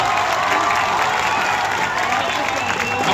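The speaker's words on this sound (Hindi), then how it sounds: "बजा लो ताली, जितना जोर से बजाना है।" A large crowd at a political rally in Saurbazar, Saharsa, clapping hard in a dense, continuous roar of applause with some shouting mixed in, loud and sustained for the whole stretch.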